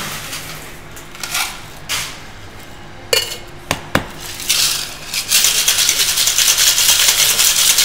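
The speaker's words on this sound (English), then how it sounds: "We'll shake that up over ice." A cocktail of citrus-rind and rosemary syrup rattles in a shaker over ice at a gallery event, scattered clinks and knocks giving way to a loud, steady shaking rattle.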